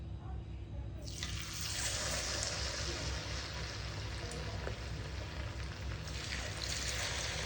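Cooking oil poured into a kadhai, a continuous rushing liquid stream that starts abruptly after a moment and runs steadily over a low background hum.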